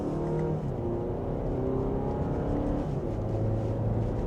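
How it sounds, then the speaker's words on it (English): A 2025 Audi Q5 Premium Plus in dynamic mode pulls onto the road in second gear, its engine note a steady, full low hum heard from inside the cabin under road noise. "So now let's go ahead and get this out on the road."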